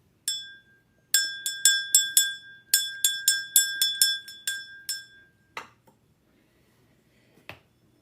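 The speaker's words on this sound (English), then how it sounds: "But let me ring my bell." A small hand bell rung in a space-cleansing ritual gives a quick run of about a dozen clear, ringing strikes in two bursts, followed by a couple of softer knocks and then quiet.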